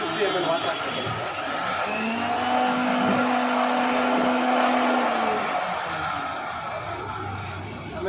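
A mixer grinder blends sweet lime juice with two spoons of sugar. Its loud, close motor whirs in one continuous drone, with the pitch shifting slightly as the jar churns.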